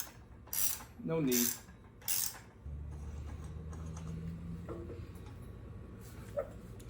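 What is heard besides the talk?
pressing accessory drive pulley on with pulley installer tool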